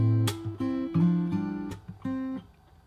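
Fingerstyle acoustic guitar plays a bar of a song, a handful of plucked bass notes and open strings ringing in a gentle rhythm, soft and close with no voice.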